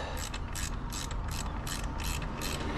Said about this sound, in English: get these pliers around there, and then if you can, just tighten it like this